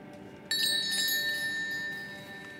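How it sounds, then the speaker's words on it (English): Bells ring in the video game Elden Ring, a sudden bright metallic chime with a ringing shimmer that fades over about two seconds, heard over a quiet game background. "what happens when you ring the bells"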